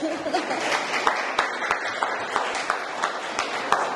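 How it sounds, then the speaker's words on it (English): An audience at an art exhibition opening applauds, a continuous wash of clapping with a few sharper individual claps standing out and a faint chuckle underneath. "So I know a round of applause for Kavita as well."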